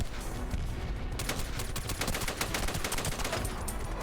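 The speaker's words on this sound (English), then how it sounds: "Contact. We're taking heavy fire." Heavy gunfire in SOCOM US Navy Seals II crackles in rapid, dense automatic bursts, loud and continuous throughout.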